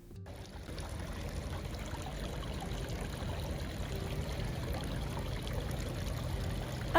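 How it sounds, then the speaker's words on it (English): Garden fountains at an outdoor flea market give off a soft, steady trickle and splash of running water, fairly faint and continuous throughout with no voices. "I love how relaxing these beautiful fountains are."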